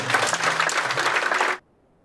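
A burst of audience applause at a conference, many hands clapping steadily, then cutting off abruptly into silence.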